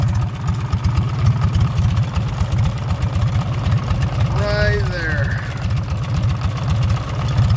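A 1951 Farmall H tractor engine idles steadily up close with a slight miss, a continuous low throbbing rumble that runs through the whole clip while a voice speaks briefly over it.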